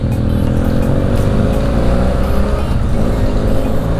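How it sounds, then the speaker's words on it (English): A Triumph Bobber motorcycle accelerating hard in a roadside race on Route 1148 in northern Thailand, a loud, close, continuous engine roar with steady wind rush. "Gaz versus the Triumph Bobber. Who's going to win?"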